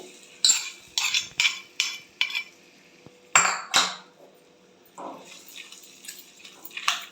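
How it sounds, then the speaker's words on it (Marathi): A spoon mixes hot tempering into spring onion pachadi, clinking repeatedly against the bowl in a series of sharp taps and scrapes, close and fairly clear, with quieter stirring toward the end. "पचडी एकजीव करून घेते."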